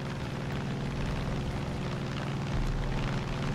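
A propeller airplane flies in Far Cry 5, its steady, loud engine drone holding throughout with a slight swell near the end and no talking.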